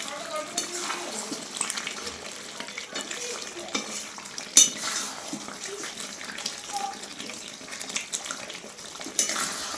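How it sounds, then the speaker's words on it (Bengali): Large chicken pieces stirred and sautéed with spices in a pan, a steady soft sizzle with scraping stirs and occasional clinks of the utensil against metal, continuous and fairly quiet. "এখন এই যে মশলা দিয়ে কষে নিচ্ছি।"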